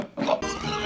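A piglet given as a gift lets out a brief, close grunting oink, less than a second long, in a short nasal burst.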